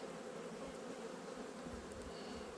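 Honey bees buzzing at a small apiary on a cold spring day, a steady, faint swarm drone with individual bees passing close by, and no talking.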